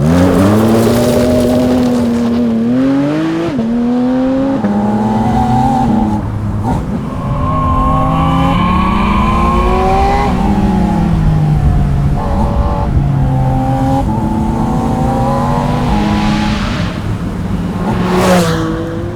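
A Porsche Spyder RS engine revving hard close by, climbing and dropping in pitch through repeated gear changes, loud and continuous.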